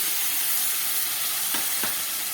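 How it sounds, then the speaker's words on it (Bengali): Milk hits hot semolina cooked with sugar and ghee for a sweet barfi, producing a loud, continuous hissing sizzle with a couple of soft bubbling bursts toward the end. "এবার আমি এর মধ্যে দিয়ে দিচ্ছি দুধ।"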